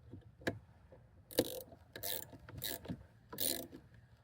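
A hand wrench ratchets in short clicking bursts while a bolt is torqued on a 1983 Mustang GT, a few separate close ratchet runs with small pauses between them in a quiet garage.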